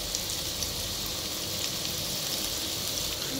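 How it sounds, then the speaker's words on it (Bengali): Onions frying in a covered pan for a home-style mutton curry give an even, continuous hiss with no clear stirring or breaks, close by and without voices. "পেঁয়াজটা খুব সুন্দর ভাজা হয়ে আসছে"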